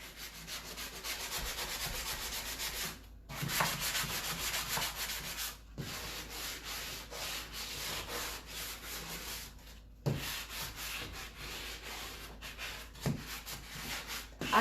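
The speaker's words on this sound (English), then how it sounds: "I love sanding." Wood being sanded by hand, with repeated rough scratchy strokes in bursts separated by brief pauses, close and moderately loud.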